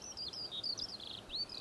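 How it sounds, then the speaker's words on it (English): Skylarks sing near the runway at Newcastle Airport, a continuous high warbling trill that is fairly faint and distant over a steady hiss of outdoor background noise. "You might be able to hear the bird song as well. There's some skylarks around at the moment"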